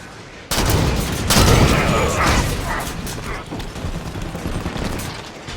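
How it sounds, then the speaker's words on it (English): Dense automatic turret gunfire from the video game Halo 5: Guardians, rapid overlapping shots with booming impacts that sustain loudly throughout, with game voice chatter underneath. "Turrets on and firing."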